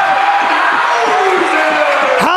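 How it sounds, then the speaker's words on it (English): A packed high school boys basketball gym roars as the crowd rises after a game-tying three-pointer. The loud, sustained cheering carries shrill whoops and screams throughout. "Crowd on their feet."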